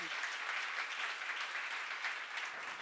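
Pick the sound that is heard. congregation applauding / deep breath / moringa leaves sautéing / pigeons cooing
congregation applauding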